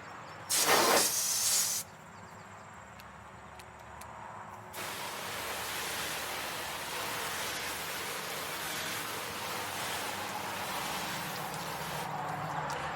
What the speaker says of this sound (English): Okay, let's rinse.